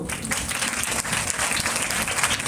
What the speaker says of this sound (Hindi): आप लोग ताली बजा सकते हो